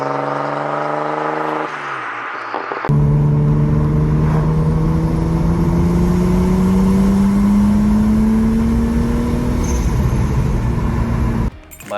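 Engine of a heavily modified previous project car, revved hard from idle with rising pitch through the rev range, loud and close, then cutting off abruptly.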